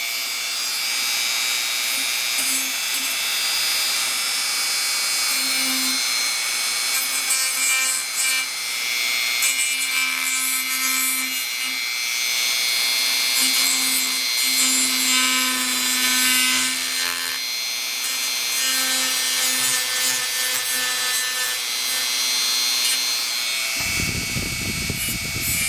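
Steady, continuous abrasive rubbing and filing while burrs are cleaned off a modified XL motor part, close and loud with a constant tonal whine throughout, ending with a short low thump.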